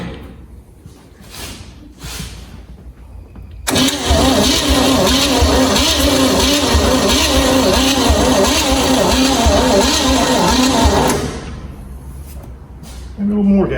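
A Chevy-swapped engine in an abandoned Ford F100 truck cranks with gas added, a loud rhythmic starter churn running about seven seconds without catching, framed by quieter handling noises before and after.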